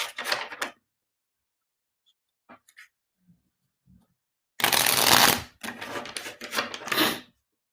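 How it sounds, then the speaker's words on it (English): Two bursts of crisp riffling as a deck of tarot cards is shuffled, a short one at first, then a longer run after a quiet pause, close and fairly loud. "let me shuffle the tarot and see what's going on for you guys"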